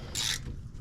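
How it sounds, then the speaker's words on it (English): Brake caliper bolts being tightened on a Kia Soul during a front brake pad and rotor job, heard as a single brief, close rasping ratchet-like burst over a low steady hum. "now we're going to tighten the caliper bolts"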